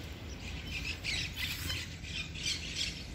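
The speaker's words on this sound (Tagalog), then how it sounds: "At kasabay ng huni ng ibon." A bird squawks repeatedly in short, bright bursts, fairly close, over a low steady outdoor hum.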